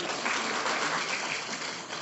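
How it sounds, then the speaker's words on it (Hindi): Loud, continuous applause from a large crowd at a Constitution Day gathering in Delhi. The clapping is dense and steady for about two seconds, with no speech over it. "जोरदार ताली तो बजाओ"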